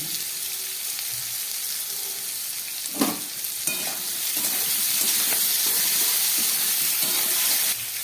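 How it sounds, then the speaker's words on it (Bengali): Tomato sautéing in a pan gives a steady, close sizzle and hiss with occasional stirring scrapes. It grows slightly louder partway through, and no one speaks. "টমেটোটা একটু কষিয়ে নিলাম"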